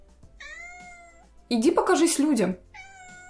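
A house cat meows several times nearby, drawn-out tonal cries with one louder, harsher yowl in the middle, while a person speaks to it in between.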